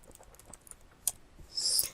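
Someone types a word on a computer keyboard: a run of light, separate key clicks, then a brighter burst of quick clacking near the end, close up with no talking.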